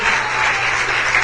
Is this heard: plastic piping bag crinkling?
no